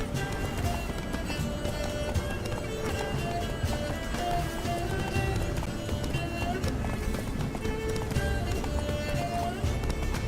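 Rapid hoofbeats of a galloping horse in The Witcher 3: Wild Hunt – Blood and Wine drum steadily under a dense, continuous wash of game music and ambient noise.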